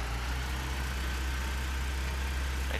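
Steady, low tractor engine drone in a farming game, a continuous mid-loud idling rumble that holds constant throughout with no speech over it.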